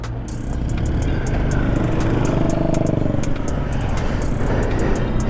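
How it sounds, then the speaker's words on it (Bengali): A motorcycle rides up a hilly road between Siliguri and Gangtok, close to a wildlife sanctuary. Its engine gives a loud, steady drone mixed with wind rush and a few faint rattles. "আর সেই রাস্তাতে আমি বাইক নিয়ে এসেছি"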